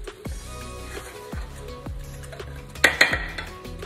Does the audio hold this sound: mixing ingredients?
yes